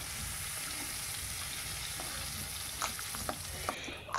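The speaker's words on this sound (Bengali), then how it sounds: "বেশ ভালো করে নাড়িয়ে চাড়িয়ে আমি ভেজে নেব" Potato pieces frying in hot oil in a pan, a soft steady sizzle with occasional scraping stirs and clinks of a spatula toward the end.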